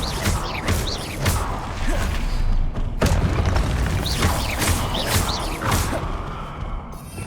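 Spell effects in Hogwarts Legacy as the Levioso levitation charm is cast: booming thuds and whooshing swells, with a sharp hit near the middle and softer rumbling around it, no talking.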